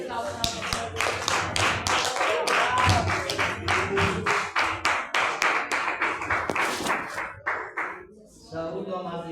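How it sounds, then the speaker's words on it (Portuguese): A church congregation at a worship service claps in a steady rhythmic beat, sharp repeated claps close and loud for about eight seconds, with voices singing or calling underneath, before the clapping stops and a voice speaks. "As palmas exaltam a nossa."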